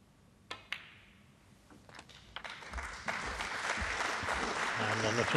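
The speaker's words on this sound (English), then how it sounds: "Always nice to see the audience clapping a 50 break." Audience applause for a 50 break during the final of the snooker Australian Goldfields Open, starting after two sharp clicks and swelling into steady, full clapping from the crowd in the arena.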